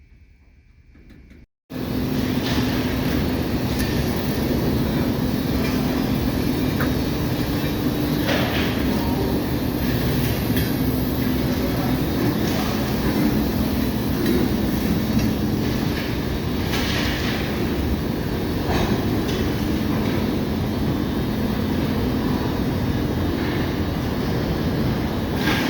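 A short coal train moves and dumps its load, a loud, continuous rumbling roar that starts abruptly and holds steady for over twenty seconds, with faint clanks and scrapes in the mix and no talking.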